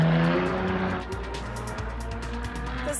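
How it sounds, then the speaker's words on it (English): A suspect car speeds away from a targeted shooting scene in Surrey, its engine roaring loud and close with a brief squeal of tires at the start, then a steady rumbling drive. "The suspect vehicle seen speeding from the crime scene"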